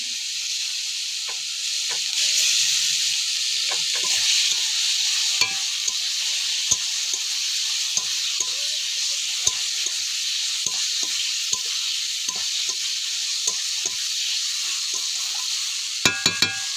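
Egg curry masala fries in a pan after cumin, ginger and coriander paste is added, a constant bright hiss of sizzling oil with soft intermittent stirring taps and a few sharper clinks near the end.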